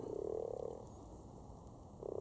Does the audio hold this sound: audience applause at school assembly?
no